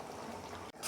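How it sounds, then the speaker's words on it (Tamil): Chickpea cooking water poured into a pan while making channa masala, a steady liquid pour that runs close and continuous, then briefly cuts out before a brighter splash at the end. "கொண்டக்கடலை வேக வச்ச தண்ணியும் இதிலேயே ஊற்றிக்கலாங்க."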